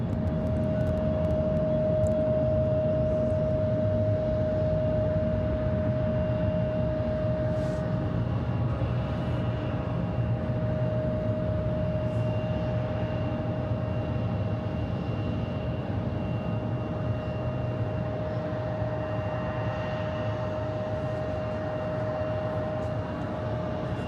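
Airliners arriving at Hazy Atlanta Hartsfield-Jackson International Airport produce a steady, broad jet roar that holds at an even level throughout, with a sustained tonal whine running underneath, and no talk.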